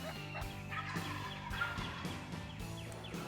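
Several wild turkey toms gobble repeatedly in overlapping bursts at the edge of a green field in Missouri, loud and fairly near, with rapid rattling calls answering one another.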